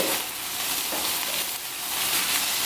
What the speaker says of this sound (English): Okay, so just give it a quick sear.